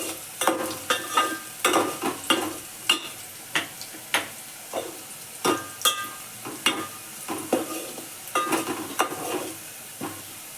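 Garlic cloves fry in hot oil while being stirred for a fenugreek-greens dish. Close, rhythmic scraping stir strokes repeat every half second or so over a soft, steady sizzle, with no talking.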